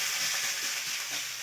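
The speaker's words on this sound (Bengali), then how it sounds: "দিয়ে দেব থেতো করে রাখা পেঁয়াজ" Crushed onion dropped into hot oil for a whole duck curry, giving a loud, dense, steady sizzle up close with no talking.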